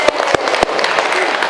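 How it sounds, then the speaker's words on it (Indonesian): Brief burst of applause from a small group in a school training session, loud close claps with a few distinct sharper hits, a voice speaking over it. "Tepuk tangan buat Pak Beni."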